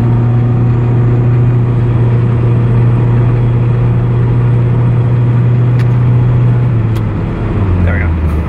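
A Toyota MR2 SW20 drives with a loud, steady engine drone heard from inside, its pitch dropping near the end as an automatic gearbox shifts on its own, while someone talks over it.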